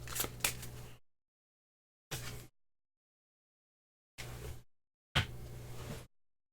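Playing cards are shuffled in short separate bursts at a tabletop game of Concordia, each a brief close riffle or flutter of card stock, with silent gaps between them.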